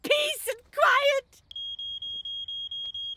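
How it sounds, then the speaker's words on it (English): A person speaks briefly, then a high-pitched smoke alarm starts beeping in a steady, rapid pulsing pattern that continues without pause, in a cartoon. "That sounds like a smoke alarm."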